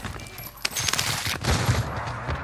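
Shotgun blasts in the video game Call of Duty Warzone: a few sharp, loud shots spaced irregularly over a rumbling gameplay background.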